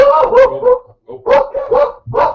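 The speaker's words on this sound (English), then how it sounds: "Dogs are going to go into the door." Dogs bark in short repeated bursts close by during a live broadcast, three clusters of yips and barks with brief gaps, loud.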